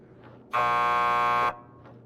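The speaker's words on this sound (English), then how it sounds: "Just press the buzzer by the door." Door buzzer in the video game Max Payne 2 sounds once as a loud, steady electronic buzz lasting about a second, with faint background noise before and after.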